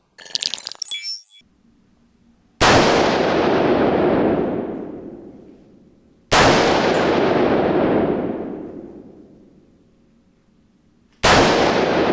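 Three loud, sharp gunshots from a Strela Y-2 .223 rifle during a test, spaced a few seconds apart, each with a long echoing decay outdoors after a brief faint noise at the start.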